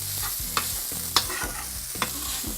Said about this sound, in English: Okay, just mix it up